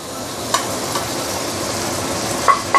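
Rice noodles for char kuay tiaw tossed into a hot wok with egg, giving a steady broad sizzle with stirring scrapes and a few sharp clinks of the spatula against the metal.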